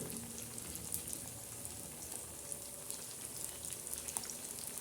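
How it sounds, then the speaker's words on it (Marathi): Sabudana vadas made with peanuts and green chillies shallow-fry on a flat tawa, giving a faint, even hiss of sizzling oil with tiny scattered pops and no voices. "आता आपले वडे तळत आहे"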